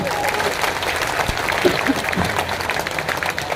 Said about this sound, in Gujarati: તો જોરદાર તાળીઓ પાડો કમિટી માટે.